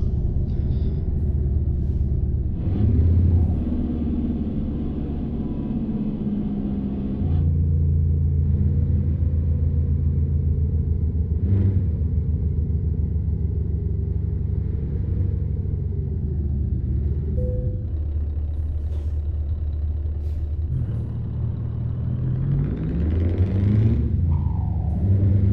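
A 1,000-horsepower truck hauling cement in Euro Truck Simulator 2 drones with a deep, steady engine rumble, rising and falling as it accelerates and shifts, loud and continuous without talk.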